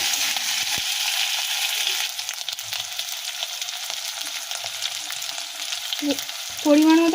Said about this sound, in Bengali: যতক্ষণ না টমেটো না ভাজা ভাজা হয় ততক্ষণ আমরা নাড়াতে থাকবো